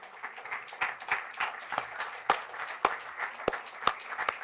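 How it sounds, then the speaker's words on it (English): An audience at an Italian Design Day event claps steadily, with scattered individual sharp hand claps standing out over a continuous patter of applause. "please keep clapping your hand"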